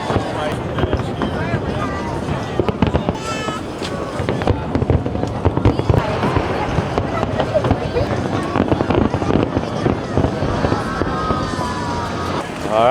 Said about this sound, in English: the fireworks decided to go off right there